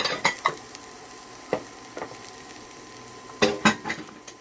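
Cut celery frying in olive oil in a pan: a steady soft sizzle under scattered scraping and clinking as a utensil stirs against the pan, close, with no talk.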